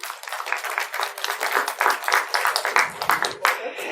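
An audience at a day-four gathering claps in a loose, uneven patter that comes in clustered bursts, close and moderately loud, with voices audible underneath.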